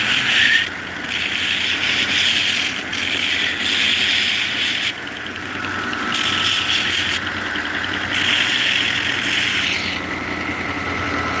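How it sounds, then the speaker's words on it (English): A belt grinder slack-sands a batch of knife handles, giving a continuous loud abrasive rasp over a motor hum, with the pitch and intensity shifting in regular passes as the work is pressed and lifted. "so it is grinding of some sort."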